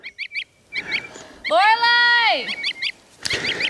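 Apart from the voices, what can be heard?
goose honking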